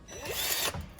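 A short whirring burst from a power drill, close and fairly loud, lasting about a second before cutting off.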